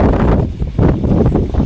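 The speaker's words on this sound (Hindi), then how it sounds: "जरा हवा चल रही ना दोस्तों" Wind gusts loudly outdoors beside a river during fishing, rushing and buffeting the microphone in uneven surges with no talking.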